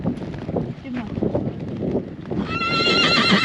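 A horse on a cattle drive through the Black Hills neighs loudly near the end, after hoof clip-clop and outdoor wind noise, with people talking nearby.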